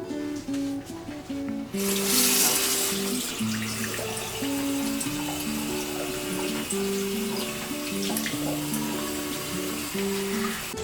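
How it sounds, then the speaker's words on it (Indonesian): Tap water runs steadily while hands are washed under the flow. A tonal melody plays underneath throughout, and the water grows louder after a quieter start. "Mencuci tangan dengan air mengalir sangatlah sederhana."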